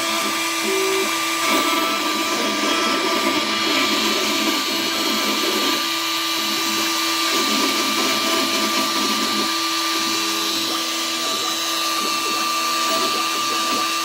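An X-Carve CNC router cuts an anchor design into a Coast Guard plaque over several passes, its spindle whine and the bit's grinding holding steady and loud for the whole stretch, with pitch shifting slightly as the cutter moves.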